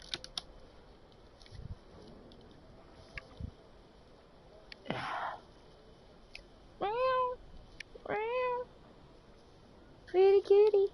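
A domestic cat meows near the microphone, three distinct drawn-out meows spaced a second or two apart rising over faint room noise and a few soft clicks, with someone talking briefly.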